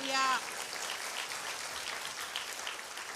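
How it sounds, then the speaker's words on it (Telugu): A church congregation claps loudly in praise, a dense, steady patter of many hands continuing without pause. "గట్టిగా చప్పట్లు కొట్టి ప్రభువుని స్తుతించండి."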